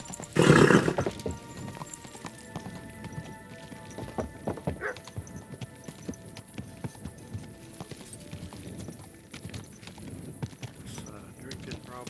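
Horse hooves clip-clop steadily with a brief whinny in the medieval role-playing game Kingdom Come Deliverance 2, a loud burst near the start, then rhythmic hoofbeats under game music and voices.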